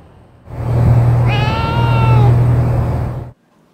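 Stray cats meowing at a shelter on the rooftop of a district government office in Seoul, a clear drawn-out meow rising over a steady low hum, close and fairly loud with no talking.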